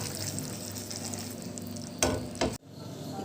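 Raisins and nuts frying in ghee for tomato halwa, a steady close sizzle with a brief louder stir or scrape near the end before it cuts off abruptly.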